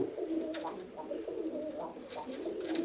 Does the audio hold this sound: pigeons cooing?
yes